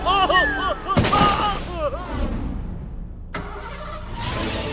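In a Hindi kids' cartoon, a car engine starts with a loud burst and revs, then roars away. The revving whines sweep up and down over the engine rumble, with a second sharp bang partway through.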